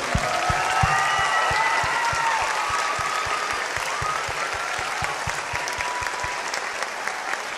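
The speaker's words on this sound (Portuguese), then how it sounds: "Então, uma salva de palmas a todos esses que trabalharam duro." Sustained audience applause at a dance school's staged performance of Alice, steady and dense throughout with a regular low rhythmic thud underneath and faint voices mixed in.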